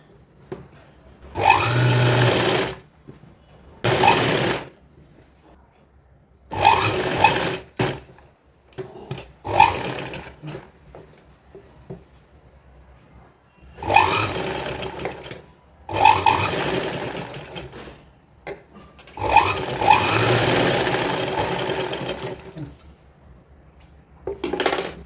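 A sewing machine stitches a folded fabric strip onto a kurti in several bursts of fast mechanical whirring, each lasting one to four seconds, separated by quiet pauses with faint handling sounds, close by.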